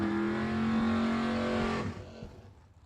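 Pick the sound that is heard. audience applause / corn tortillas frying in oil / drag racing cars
drag racing cars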